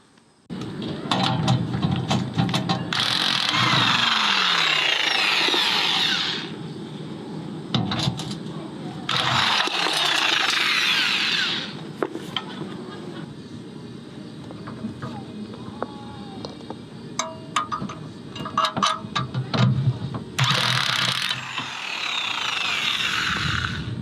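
A power drill drives screws into an RV stabilizer jack in several long whirring bursts with pauses between them, loud and close, mixed with clanks and handling noise.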